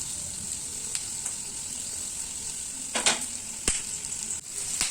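Sliced tomatoes and vegetables sizzle in a kadai over a high gas flame, a continuous bright hiss broken by a few sharp clatters and bursts as they are tossed, close and fairly loud.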